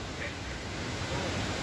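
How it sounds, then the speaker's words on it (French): Steady broadband rushing of the Cascade du Hérisson waterfall in the Jura, a continuous close wash of falling water filling the scene without pause. "Les enfants, nouvelle cascade."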